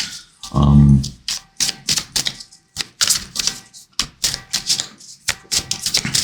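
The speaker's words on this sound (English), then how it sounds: "I cut the deck" Oracle cards in a deck are cut and shuffled close up, a rapid run of crisp clicking and slapping card sounds with a brief low thump near the start and no talk.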